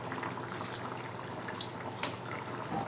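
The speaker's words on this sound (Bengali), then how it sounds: "এবারে আমি পাতিলেবুর রস দিয়ে দেব।" Lime juice added to crab masala in a pan, faint dribbles and a couple of small drips over a quiet background hiss.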